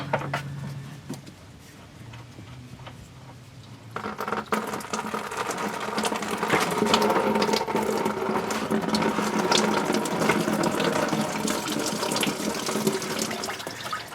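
Coolant runs out of the radiator petcock on a 2004–2008 Ford F-150 with the 5.4L engine, a steady close trickle and splash that grows fuller partway through and keeps going without talk.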